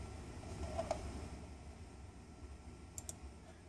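Computer mouse clicks during a Veeam Endpoint restore, a couple of soft close clicks early on and a quick double click near the end over a quiet room hum.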